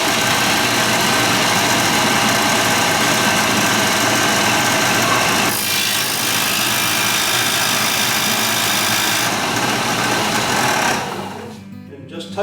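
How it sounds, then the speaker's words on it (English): A disc sander with its table set at 45 degrees grinds a brass rod. Its loud, steady whine runs continuously and shifts slightly in tone as the rod meets the disc, then fades away at the end. "So I've got this table on the disc sander set to 45 degrees."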